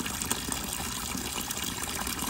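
Water pouring down a small artificial backyard river into a pond, a steady close rush of splashing and gushing flow with no voices.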